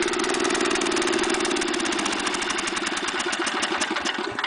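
Engine just after a cold start, running rough and misfiring: a steady, loud mechanical drone with an uneven pulsing beat, continuous and close throughout.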